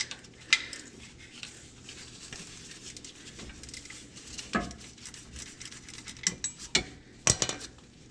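A 1/4 inch drive ratchet works near the compressor on a 1999–2004 Ford Mustang GT 4.6 engine, giving sparse, close metallic clicks and clinks that cluster more densely toward the end, with no talking.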